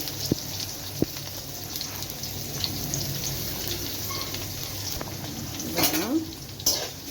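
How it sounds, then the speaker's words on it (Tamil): Small onions and garlic sauté in a pan for a fish curry, a soft, steady sizzle with occasional stirring scrapes and light clinks. "சின்ன வெங்காயம் பூண்டு நல்லா வதங்கணும்."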